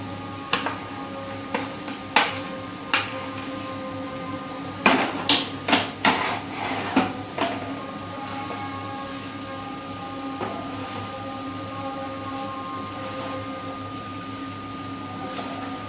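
A metal spoon mixes rice in a pot, sharp clinks and scrapes arriving in irregular bursts, with a cluster of quick knocks near the middle over a steady low kitchen hum.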